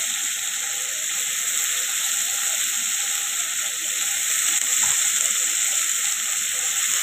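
Soybean chunks and mixed vegetables fry in a pan with a steady, loud, close sizzling hiss that holds evenly throughout, without talk.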